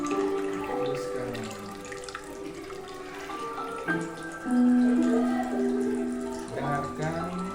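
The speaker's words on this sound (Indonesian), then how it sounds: "gemericik air lantunan piano" Gently babbling water runs steadily beneath soft piano music during a guided relaxation exercise, the piano notes ringing out clearly over the continuous watery wash.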